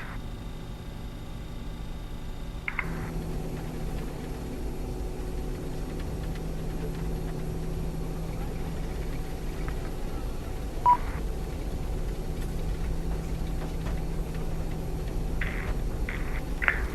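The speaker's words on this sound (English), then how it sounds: "sounds as if the aircraft is taxiing." Avro RJ70 airliner taxiing in Microsoft Flight Simulator 2020, a steady low engine hum and cabin rumble throughout, with a few faint clicks and rattles over the continuous drone.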